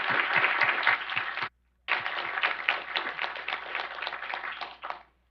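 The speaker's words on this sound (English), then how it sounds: "I think that deserves a round of applause." Audience round of applause at a live policy event: steady crowd clapping with a brief pause, then resuming at full strength before cutting off abruptly.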